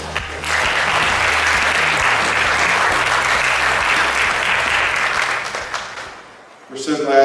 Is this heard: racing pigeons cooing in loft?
no